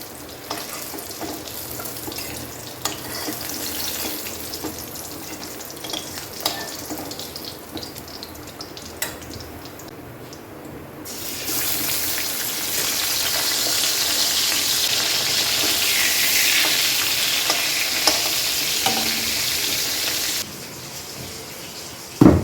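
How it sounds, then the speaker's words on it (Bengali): Fish frying in a pan on a home kitchen stove, a steady broadband sizzle that swells louder midway and holds, with a few small clinks and kitchen bustle, no voices. "এদিকে মাছ ভাজতে দিয়েছি"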